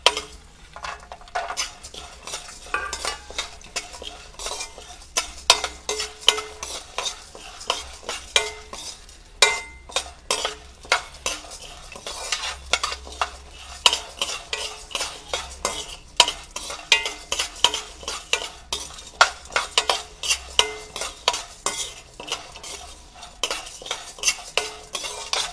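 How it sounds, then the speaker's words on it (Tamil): Chana dal and garlic roasting in a pan, stirred continuously, a dense run of rapid metal scraping and clinking strokes over a light dry sizzle, close and loud throughout, with no voices. "இப்போ பூண்டை போட்டு அதோட வறுத்துப்போம்"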